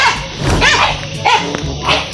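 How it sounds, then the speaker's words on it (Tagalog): An angry dog barks repeatedly at close range during a water delivery, with sharp bursts and whimpering tones spread across a couple of seconds, loud against background noise. "Galit yung aso."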